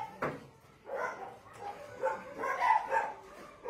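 Small abandoned puppy yipping and whimpering at close range in a village shelter setting, a few short high cries spread across the moment with quiet gaps between them.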